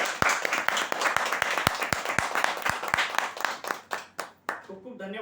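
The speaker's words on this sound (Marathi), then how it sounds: "एकदा जोरदार टाळ्या वाजवूया सर्व ग्राहकांसाठी." An audience at a Shree Ganesh Marketing prize draw event claps in sharp, distinct strokes that start sparse and thicken into scattered applause, then fade as a voice begins speaking.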